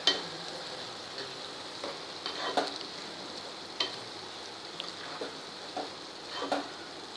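Grated bottle gourd stirred with milk cream in a pan over medium heat, a faint sizzle and bubbling broken by sparse, light spoon taps and scrapes against the pan.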